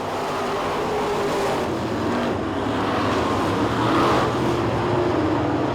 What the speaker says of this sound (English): Andy Stewart driving his pure stock machine that he races here and at Swainsboro and over at Screven.